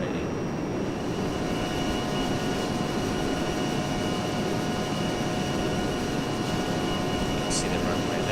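An A-10C jet accelerating down the runway for takeoff in ArmA 3, a steady loud engine roar with a high whine throughout, a voice talking over it.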